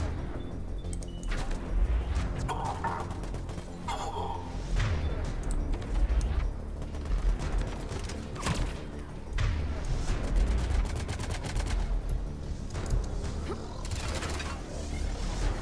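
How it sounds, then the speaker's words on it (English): Enemy gunfire in the video game Mass Effect 3, coming from around a corner: bursts of sharp, rapid shots mixed with mechanical clanks and impacts, mid-level over steady game ambience. "They're shooting at him from, like, around the corner."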